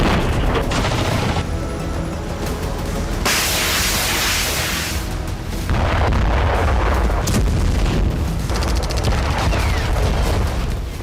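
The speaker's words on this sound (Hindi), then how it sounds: "रूस की धरती पर एक के बाद एक कई धमाके हुए।" Missile and drone strikes on Russian territory set off a dense, continuous barrage of booming blasts and crackling detonations, loud and unbroken, with several heavier bursts standing out over the rumble.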